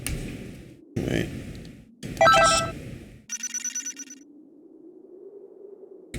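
Phone ringing in the game Dragon Ball Xenoverse 2, short bursts of electronic trilling ring followed by a rising sustained tone, with no one speaking.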